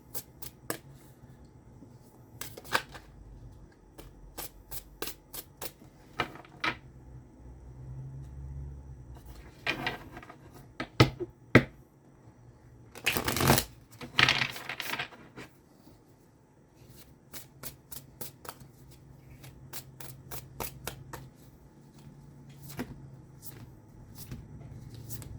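Tarot cards are shuffled by hand in repeated crisp riffles and flicks, close and fairly loud, with bursts of quick snaps clustered through the middle and softer handling between them.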